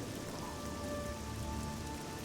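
Steady rain hissing over everything in The Elder Scrolls IV: Oblivion, a dense, even downpour with no gaps and no voices, broken only by a faint tonal hum.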